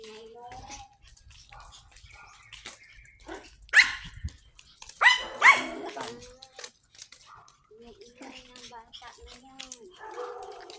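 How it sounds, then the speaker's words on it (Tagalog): A young puppy yips and barks in short, high bursts outdoors during a walk with other dogs, rising above people chatting nearby, with small whimpers between the louder yaps. "Batang aso."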